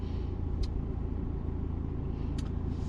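Road traffic rumbles loudly and continuously on Paris streets, a scooter and a car rushing past fast and close with a heavy, steady engine drone.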